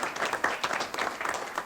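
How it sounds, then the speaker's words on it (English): Applause from the audience at a township council meeting, a steady wash of many hands clapping at moderate distance, continuous and fairly even throughout the short stretch. "So please give these professionals a round of applause"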